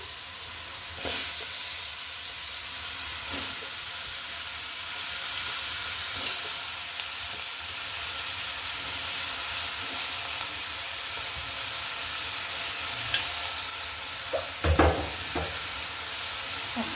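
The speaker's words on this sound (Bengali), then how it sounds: "এই পর্যায়ে কিন্তু আমি খোসা কুচিটা অ্যাড করে দিচ্ছি।" Chopped ash gourd peel fries in a pan for a Bengali stir-fry with potato and prawn, giving a steady hiss of sizzling and a few louder scrapes and clatters from stirring, close and with no voices.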